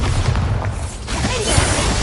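A Bombarda spell explosion in a Harry Potter video game: a loud, dense, rumbling blast of broadband noise that fills the short moment with a heavy low-end boom.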